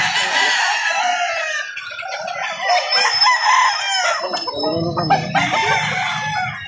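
Several roosters crow loudly and repeatedly, overlapping one another, with hens clucking underneath and a busy farmyard chorus throughout at a chicken market in Lipa City, Batangas.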